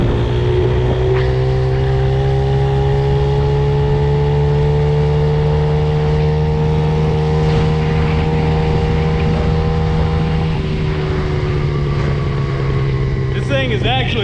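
A 50cc mini bike engine held at a steady high-pitched drone at top speed, loud and close throughout, with slight pitch drifts as it runs on.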